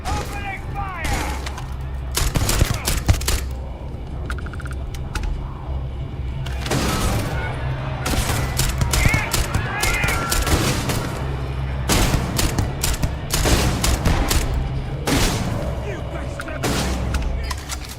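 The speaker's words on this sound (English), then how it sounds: "Take them down! Opening fire!" Rapid gunfire from a firefight in the video game Starfield crackles in repeated bursts and volleys over a steady low rumble, with voices talking during the action.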